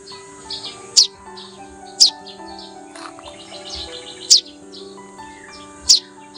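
A baby bird gives four sharp, evenly spaced chirps close by, each a brief bright tweet over a quiet, faintly tonal background.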